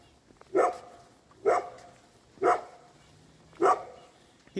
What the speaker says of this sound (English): I apologize for the neighbor's idiot dog.